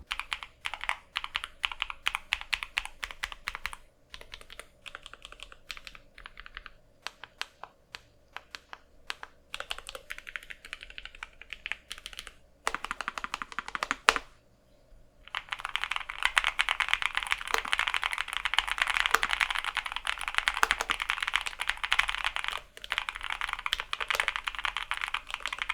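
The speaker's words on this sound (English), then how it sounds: "if you think going low profile automatically means a super quiet typing experience, that's not the case here" Rapid typing on a NuPhy Air75 v3 low-profile mechanical keyboard, a steady run of crisp clicky keystrokes heard close and alone, with a brief pause midway before a denser, louder burst of typing.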